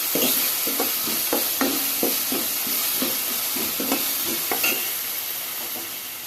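Chicken curry masala fries in a pan with a constant close sizzle. A utensil stirs it in a rhythmic series of repeated scraping strokes, about two per second, with no talking.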